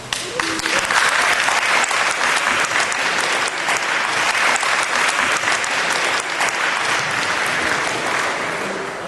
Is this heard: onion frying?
no